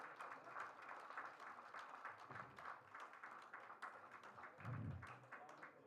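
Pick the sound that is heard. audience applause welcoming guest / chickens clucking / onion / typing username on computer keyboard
audience applause welcoming guest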